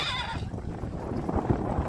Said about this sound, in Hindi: ये अभी युवराज घोड़ा आ चुका है